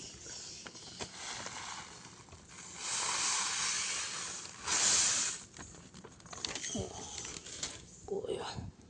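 Roasted grated coconut tipped into a simmering pot of jackfruit erissery curry, giving two loud bursts of hissing sizzle mid-way over a steady background bubble, with faint scattered clicks and bumps around them.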